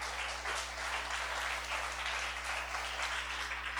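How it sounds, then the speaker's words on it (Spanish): A church congregation applauds during a morning service, a steady, even wash of many hands clapping at moderate volume over a low, constant hum. "Dele un aplauso al Señor en esta mañana."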